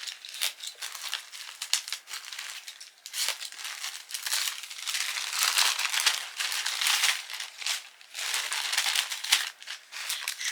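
A small plastic package of care products is opened by hand, giving close, irregular bursts of crinkling and rustling with short quiet gaps between them.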